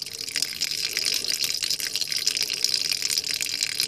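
Tap water runs steadily over raw chitterlings being rinsed clean, a continuous close gushing and splashing that persists evenly without talk.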